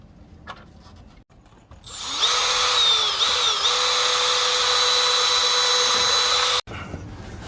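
A power drill whines steadily for several seconds while driving screws to mount a solar street light, starting abruptly and cutting off sharply, loud and close with a quiet background before and after.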